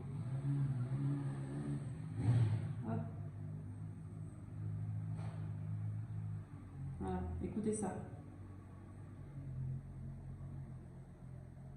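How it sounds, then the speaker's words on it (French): A motorcycle rumbles steadily in the background, its engine noise swelling and fading as it moves past, with people talking over it. "je laisse la moto passer"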